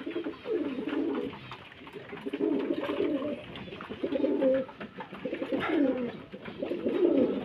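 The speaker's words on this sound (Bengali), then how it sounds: "ছেলে পায়রাগুলোকে, মানে নর পায়রাগুলো খেতে দিয়ে দিয়েছি" Pigeons kept at a home loft coo in repeated low, throaty bursts, several birds calling close by in a steady rhythm with short pauses and no talk.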